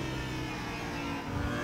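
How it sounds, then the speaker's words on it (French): A 2020 Audi R8 LMS GT4 race car in the Raceroom sim revs and accelerates, its engine a loud, steady, harmonic drone with a slight rise near the end, and no one talking. "Au niveau du son, la voiture est très sympa."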